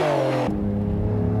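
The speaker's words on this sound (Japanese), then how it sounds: "排気音がこもり気味なのはギア比がロングなため。" A car runs on the Suzuka circuit with long gearing that leaves the exhaust note somewhat muffled. It gives a steady, close engine drone that drops in pitch partway through, with no talk over it.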